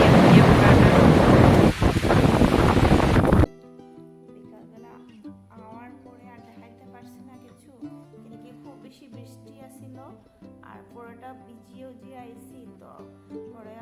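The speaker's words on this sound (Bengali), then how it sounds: "খুব বেশি বৃষ্টি দেয়" Heavy rain pours outdoors as a loud, steady hiss and roar for about three and a half seconds, then cuts off abruptly to quiet melodic music.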